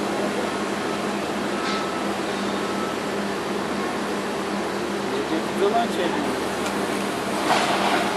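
TIG welding a root pass on ASTM 335 P11 steel pipe gives a steady, even hiss that holds throughout under a low hum, while a voice talks over it.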